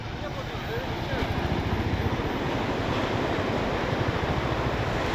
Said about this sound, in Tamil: இது வந்து ஓடையம் பீச்.